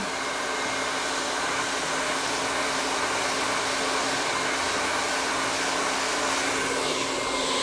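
A hair dryer blow-drying very dry curly hair: a loud, steady whooshing roar with a constant motor hum, held unbroken and close throughout, with no talking.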